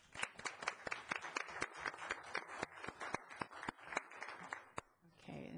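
A small group claps steadily for several seconds at a city council meeting, a cluster of sharp hand claps fairly close, with a brief bit of murmuring at the end.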